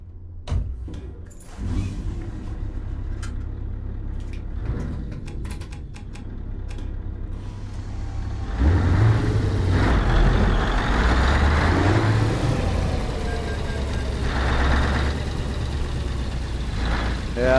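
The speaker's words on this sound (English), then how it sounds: "Is that what the scania sounds like" A Scania truck with an open pipe in Euro Truck Simulator 2: ticking clicks over a low engine drone at first, then a louder rumbling engine rise and sustained throaty exhaust.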